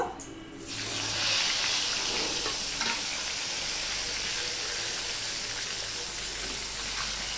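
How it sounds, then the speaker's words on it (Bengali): Fish pieces fry in oil in a kadai for a Bengali fish curry, giving a steady, loud, continuous sizzle that starts after a brief quiet moment and carries on alone with no talking. "এবার মাছগুলো আমি ভেজে নেব।"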